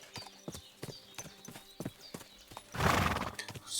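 Pebbles the horse in Kingdom Come Deliverance II trots with a run of evenly spaced hoof clip-clops, followed by a loud, breathy whinny near the end, close and clear.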